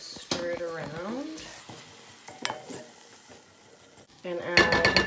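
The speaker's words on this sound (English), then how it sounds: "you're going to add your flour and stir it around" Flour being stirred into sizzling translucent onions in a pot, with a soft frying hiss, scraping and clinks of a utensil against the pot, and a person talking over parts of it.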